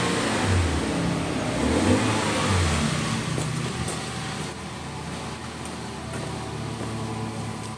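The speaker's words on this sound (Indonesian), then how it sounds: "suara mobilnya nih." Engine of a 2018 Toyota Transmover car revving close by, a steady loud mid-range drone that swells slightly early on, then settles to an even hum with no voices.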